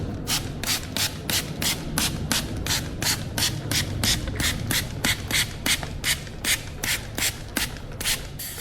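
A brush scrubs grease off a Honda Africa Twin 1100 motorcycle chain in quick, steady back-and-forth strokes, a close, loud, rhythmic rasping that repeats evenly throughout with no talk.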